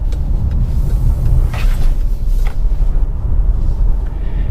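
Chevy Bolt EUV driving over a patched neighborhood road, giving a steady low road rumble with a few faint bumps, no talking.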